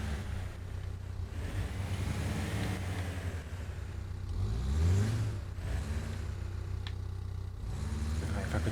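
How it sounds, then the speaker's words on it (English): Off-road truck engine in Expeditions: A MudRunner Game straining and revving as the vehicle crawls over rough terrain, with a rising surge of revs midway and a steady rumble around it. "Oh god, I'm just damaging my engine all the time here."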